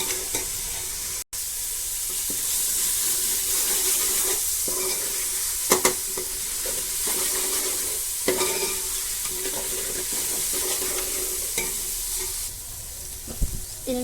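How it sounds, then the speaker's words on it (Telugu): Ginger fries in oil for a Sunday chicken gravy, a steady loud sizzle running the whole time with a few spoon scrapes and stirring clacks, one brief dropout near the start and no voices. "ఈ అల్లం వేసిన తర్వాత కూడా మనకి ఆయిల్ డివైడ్ అయ్యేంత వరకు వేయించుకోవాలండి"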